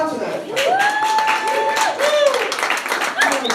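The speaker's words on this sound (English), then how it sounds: "This was a round of applause." A crowd claps and cheers together, with loud applause and a few high whoops rising over the steady patter of hands.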